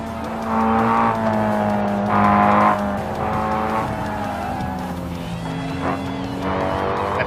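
A custom tuner car races at high speed in the Automation video game, its engine note rising and shifting through gears with tyre squeal, loud and steady throughout.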